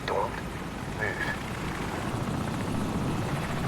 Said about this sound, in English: Enemy helicopter. Get down. Stay in the shadows. He's circling back around.